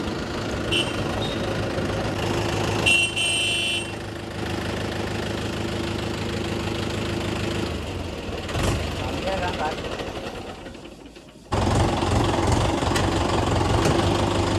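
Mahindra 4WD tractor engine running at a gravel site, a rumbling diesel drone with knocking and level shifts, mixed with other noise and a brief tonal beep early on.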